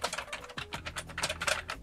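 Rapid, uneven key clicks from typing on a vintage Sinclair computer keyboard, close and fairly quiet, with no voices.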